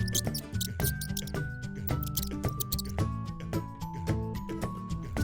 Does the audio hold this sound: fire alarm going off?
no